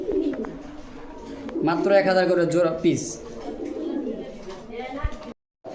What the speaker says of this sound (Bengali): কবুতর ডাক দেখেন, অ্যাক্টিভিটি দেখেন